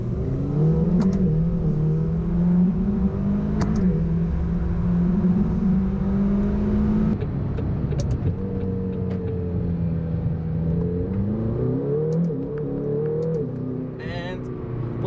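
A McLaren GT sports car's rear mid-mounted engine hums and rises through steady revs while driving, a loud continuous drone with shifting pitch as someone talks throughout.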